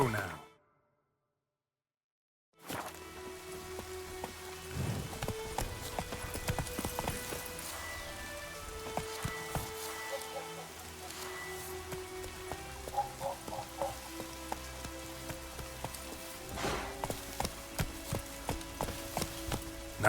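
Roach, the horse in The Witcher 3, clip-clops along in a steady, close rhythm of hoof strikes after about two and a half seconds of silence, with faint ambient game sound underneath and no talk.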